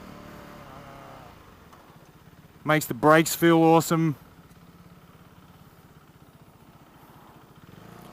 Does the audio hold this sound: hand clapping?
no